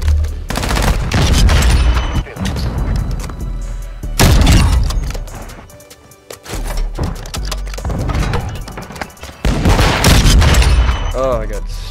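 Gunfire in Call of Duty MW2 during a Search and Destroy match comes as loud bursts of shots and booming impacts, with short gaps between volleys.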